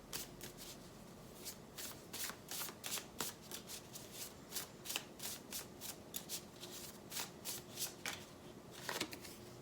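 Tarot cards are shuffled by hand in a quick, regular series of crisp riffling flicks, close and fairly quiet, continuing steadily with no talking.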